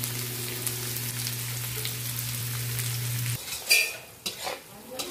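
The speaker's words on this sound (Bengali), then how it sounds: "পেঁয়াজটা ভালো করে ভেজে নিন" Sliced onion frying in oil with whole garam masala and chilli gives a soft, constant sizzle beneath a steady kitchen hum. The hum cuts out and a few spoon scrapes and stirring clatters follow.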